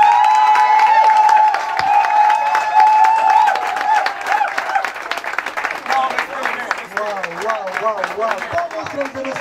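Audience applause at a Congolese comedy club theatre show, a loud sustained wave of clapping and cheering from a full crowd that gradually thins into scattered claps, with a voice talking over it.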